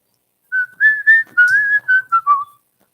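Someone whistles a short melodic tune, a string of about eight clear, bright notes rising and falling, close and alone in a quiet room.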